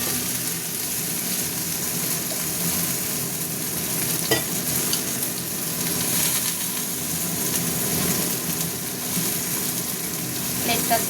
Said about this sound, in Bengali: মশলাটা কষবো তো দিয়ে দিলাম